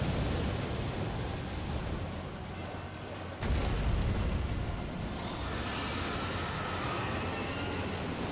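Steady roaring fire in the Elden Ring video game, a broad continuous rush that swells slightly partway through and then holds, loud with no talk over it.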